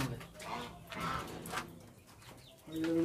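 Pigeons at a rooftop pigeon loft give soft, low coos in short phrases, faint and fairly close, with light background noise and brief voices.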